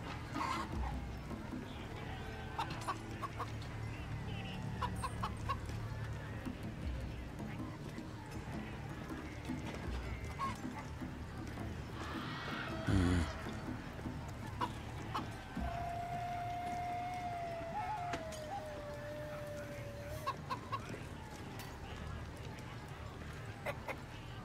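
Chickens cluck and squawk in Baldur's Gate 3 during a chase, scattered fowl calls under ongoing spoken dialogue and game ambience, with a sharper burst of flapping or commotion midway.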